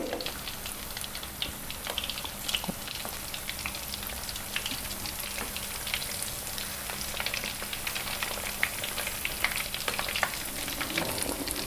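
Sindhi beh pakoras, made from lotus stem, fry in oil over a low flame with a steady, soft, crackling sizzle and scattered small pops that run unbroken throughout.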